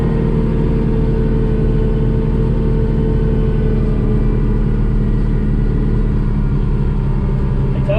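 A tractor pushing a load of snow forward about twenty feet, its engine giving a steady, loud low rumble with constant droning tones throughout and no voices.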